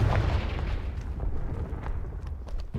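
A Confringo spell explodes in Hogwarts Legacy on Switch with a deep, heavy boom that rumbles and fades, followed by a few faint thuds.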